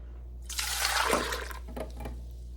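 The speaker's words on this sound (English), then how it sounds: "I'm going to pour that into my mixing bowl." Foamy yeast mixture pours into a mixing bowl as a short, soft splashing gush of liquid, close by and alone over a low steady hum.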